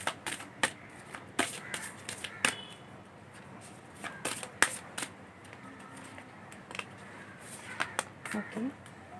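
Tarot cards are shuffled and drawn in a quiet indoor setting, with sharp, close flicks and snaps of the cards spaced irregularly across the clip.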